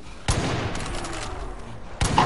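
Gunfire with piercing rounds aimed at Bigfoot in Far Cry 5: a loud sharp blast opens, a dense rattle of shots and echo follows, then another burst near the end.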